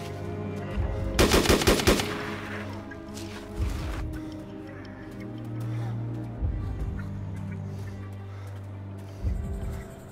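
Gunshots in the survival game DayZ, a rapid volley of close, sharp shots near the start followed by a few scattered single bangs, set against game ambience and other noises.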